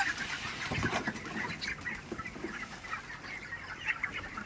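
Chickens on a poultry farm cluck and squawk in a busy, continuous chorus, a flock of poultry birds calling close by with scattered louder cries over a steady background din.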